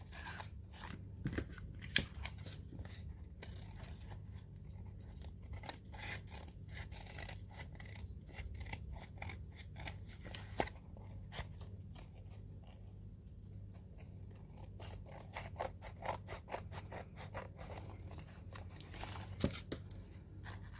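Scissors trim the edges of paper for a handmade art journal in a long run of quiet, close snips and crisp cutting strokes, steady and uneven in rhythm over a low background hum.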